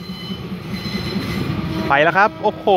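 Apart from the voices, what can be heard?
train 4387 slowly pulling out of Ban Laem station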